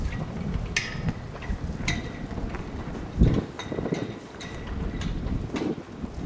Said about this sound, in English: If y'all hear that noise in the background, that's the wind. Those flags are whipping.